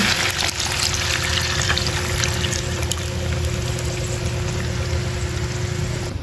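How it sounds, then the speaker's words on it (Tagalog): Water pours steadily into a pot, a continuous splashing rush that holds at the same level throughout. "at lalagyan ko na rin po ng tubig"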